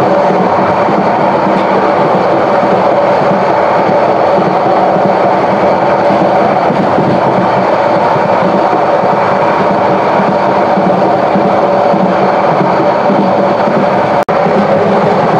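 Subarna Express running through Rajapur station on its Chattogram to Dhaka trip, heard from inside as a steady, loud rumble of wheels and carriage noise with a faint rhythmic clatter and one sharp click near the end.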